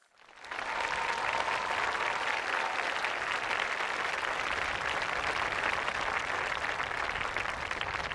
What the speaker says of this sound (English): If we give them one round of applause again.